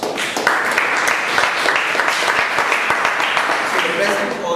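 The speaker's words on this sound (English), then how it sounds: "Another round of applause." Clapping from a meeting audience for the Sergeant at Arms carries on throughout, a full, even round of applause, close and loud with no break.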